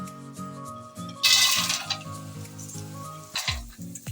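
Dry fruits hiss in hot ghee on a low flame while a carrot halwa is being made, a close sizzle that swells suddenly and then settles. Steady tonal music runs underneath.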